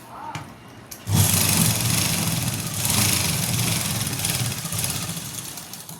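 A sewing machine runs steadily while stitching the top seam of a pant side pocket, starting abruptly after a second and humming continuously at close range without talk.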